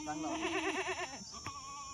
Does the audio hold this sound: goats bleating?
yes